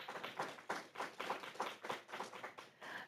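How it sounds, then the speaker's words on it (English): Faint, scattered clapping from a small audience at a school district board meeting, a few hands patting in an uneven rhythm for about three seconds. "Let's give them a round of applause."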